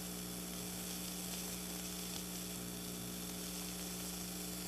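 Mushrooms sizzle steadily in a pan, laid out in a single layer to brown, with a constant, even hiss and a low hum beneath it and no talking.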